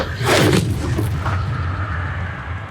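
Bombarda spell explosion in the video game Hogwarts Legacy, one loud booming blast with a rumbling tail that fades over a couple of seconds.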